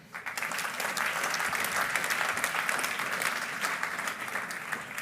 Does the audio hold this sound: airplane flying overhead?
no